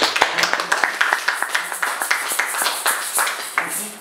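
A church congregation claps in rhythmic acclaim, steady sharp handclaps from many people at a lively beat, with a few voices faintly mixed in.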